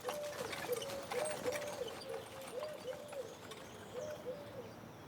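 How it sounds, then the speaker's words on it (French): Small birds sing and coo in a vineyard near Limoux, a repeated melodic call pattern standing out faintly over a soft outdoor background with no talking. "on entend le sol, les outils travaillés, les petits oiseaux"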